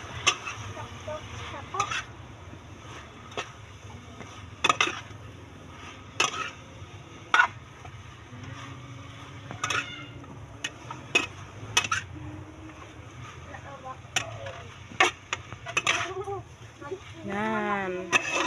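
Spoon scraping and clinking against a pan while chop suey with miki noodles is stirred, with scattered sharp taps over a steady low kitchen hum, partly under voices.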